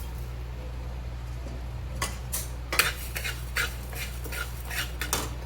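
Whole coriander seeds being dry-roasted in a pan and stirred with a spoon for a village-style Marathi chicken curry masala, heard as quiet, intermittent scraping clinks of the utensil against the pan over a low steady hum.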